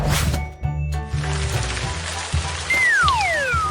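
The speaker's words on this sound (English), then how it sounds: "He sends rain from the clouds" Steady rain falls continuously, with broadband hiss throughout and a few sharper knocks and a brief rising whistle-like tone near the end, fairly loud and close with no talk.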